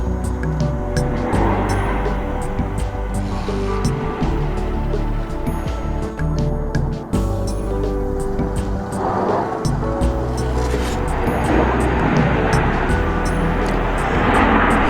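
A Jet Airways Boeing 737 on the Bangalore–Indore service at Indore's Devi Ahilyabai airport produces a loud, continuous jet engine roar with rumbling low end that swells slightly toward the end.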